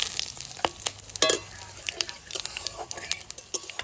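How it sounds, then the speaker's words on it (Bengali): Whole cumin, garam masala, bay leaf and dried chili frying in hot mustard oil, a steady close sizzle with crackling pops and a few stirring scrapes, no talk over it. "এবার তেলে দিয়ে দেবো গোটা জিরে আর গরম মশলা,"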